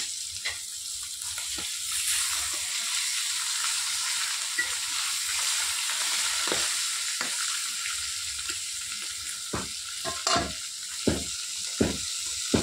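Fish frying in a kadai, with a steady close oil sizzle running throughout and sparse clicks and scrapes that grow more frequent toward the end.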